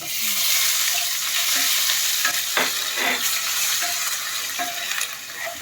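Ginger dropped into dried chilies frying in a pan, a loud close continuous sizzle with brief crackling bursts as the pieces hit the oil, no voices.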